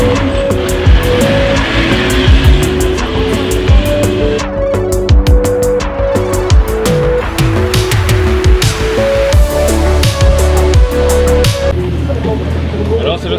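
A race car spins at the Magny-Cours circuit during a Lamera Cup race weekend, engines roaring and shifting with tire noise and sharp clicks and knocks, while people talk loudly over the racing sound throughout.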